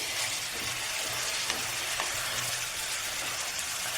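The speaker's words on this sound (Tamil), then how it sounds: "அதுக்கு நல்லா ஹை ஃப்ளேமில் வச்சு கிண்டி வச்சுருங்க" Pallipalayam chicken with turmeric sizzles steadily as it is fried and stirred in a pan over high flame, a dense continuous frying hiss with a few faint scrapes and no talking.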